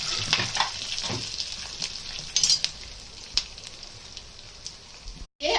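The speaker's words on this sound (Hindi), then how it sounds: "देखिए, अभी इसका तड़का देंगे।" Hot oil sizzles and crackles steadily up close as spices and curry leaves are tempered for dal, with scattered pops and faint stirring scrapes throughout.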